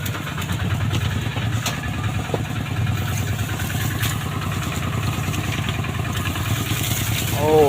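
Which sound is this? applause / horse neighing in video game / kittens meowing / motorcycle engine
motorcycle engine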